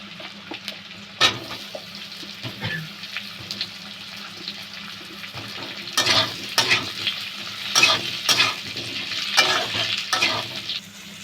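Potatoes are added to a pan of frying onions and green chili in oil, with a soft sizzle broken by louder bursts of stirring and scraping toward the end and no talking.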